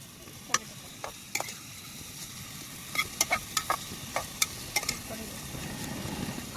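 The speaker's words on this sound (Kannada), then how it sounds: "ಸ್ವಲ್ಪ ಬ್ರೌನಿಶ್ ಆದಂಗೆ ಫ್ರೈ ಮಾಡ್ಕೋಬೇಕು." Onions frying in a pan until brownish, a soft steady sizzle with scattered sharp clicks and scrapes of a spoon stirring, fairly quiet and close, no talk.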